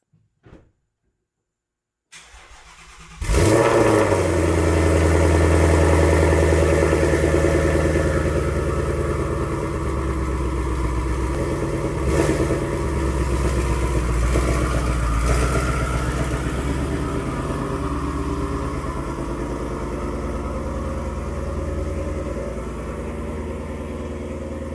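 Twin-turbo Ford Mustang starting after a brief silence, settling into a loud, steady idle with a few blips of the throttle, close and alone.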